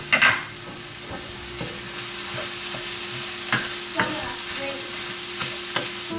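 Ingredients for a country breakfast pie are stirred in a frying pan, with a soft steady sizzle underneath and occasional scraping clinks of the utensil against the pan, close and without talk.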